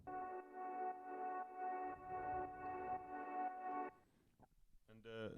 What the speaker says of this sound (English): There is a swelling sound in the intro that sounds like this.